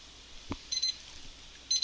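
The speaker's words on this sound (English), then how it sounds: "And there's my alarm clock." An alarm clock goes off with short electronic beeps in two brief bursts, soft against a quiet room, with a single dull knock just before the first one.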